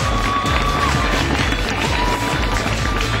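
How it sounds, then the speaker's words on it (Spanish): Audience at a youth ambassador pageant (Juventud Cozumel 2012) applauding and cheering loudly after the winner is named, a dense, steady wash of clapping and shouts with no pauses. "¡Fuerte el aplauso!"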